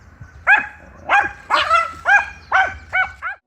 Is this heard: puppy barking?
yes